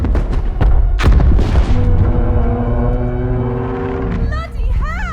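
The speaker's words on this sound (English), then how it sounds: "Now that's a proper ion cannon!" An ion cannon fires in the video game Split Fiction, opening with heavy booming blasts and thuds that settle into a sustained, droning electronic hum with rising whooshing tones near the end.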